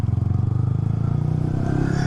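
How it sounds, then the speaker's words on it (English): A Yamaha R1 motorcycle fitted with an Akrapovic exhaust idles close by, its deep, rhythmic thumping pulse loud and steady, quickening slightly toward the end. "But you can listen to the exhaust note here."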